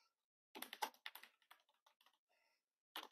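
Quick bursts of keystrokes on a computer keyboard used to run CP/M on an Altair 8800 computer, clattering close and clear in short uneven runs separated by pauses, with no talking.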